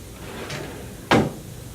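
A drawer in a dental treatment operatory slides shut once with a single short, solid knock, preceded by a faint scrape; close and isolated in an otherwise quiet room.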